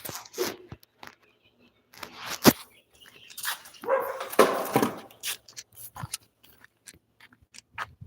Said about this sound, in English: This is my neighbor's dog.